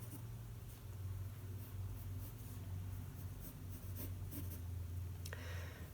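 A pencil sketches horses on paper for a graphic novel. Soft, faint scratching strokes continue over a low, steady background hum, with no talking.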